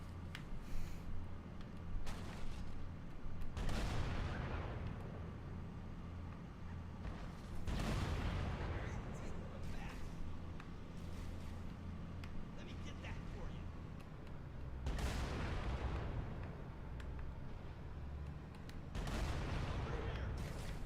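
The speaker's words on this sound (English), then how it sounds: "I love the sound of the sniper rifle in this" Sniper rifle shots in Halo CE Anniversary fire as several loud, sharp booms spaced a few seconds apart, ringing over steady game rumble and music while someone talks.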